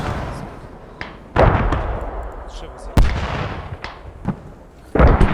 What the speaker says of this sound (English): Mortars from Team Poland